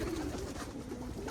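A young homing pigeon coos softly and briefly, faint against a low background murmur.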